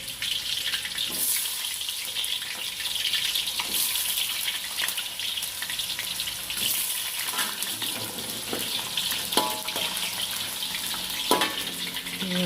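Ground turmeric spice paste frying in a hot pan for soto tangkar, a steady broadband sizzle that holds throughout with occasional stirring scrapes and clinks, fairly close and even in level, with no talking.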